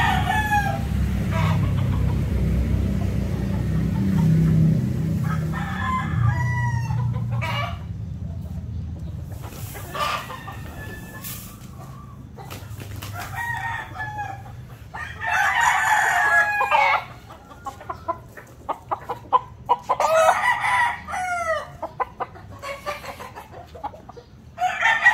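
Perfection round head gamefowl roosters of Mount Banahaw lines crow repeatedly and cluck, loud and close, over a low rumbling background, with a few softer calls between the crows.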